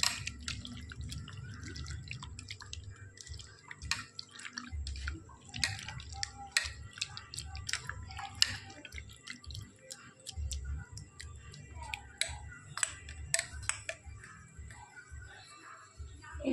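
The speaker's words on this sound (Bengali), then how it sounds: "দেখো, তারপরেও আরও কতটা জল বেরিয়েছে।" Water drips steadily from squeezed fish being prepared for fish pakora, a faint, irregular patter of small drops in a quiet kitchen.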